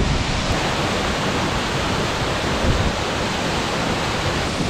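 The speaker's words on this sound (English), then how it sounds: "So here we are at Virginia Falls. There's a breeze coming off the waterfall" Virginia Falls in Glacier National Park roars as a steady, broad rush of falling water, loud and unbroken from start to end with no voices.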